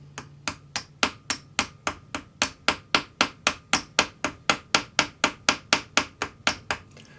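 Small chasing hammer flaring a metal pendant bail. Around two dozen crisp, evenly spaced metallic taps land close up in a steady rhythm, with no talking.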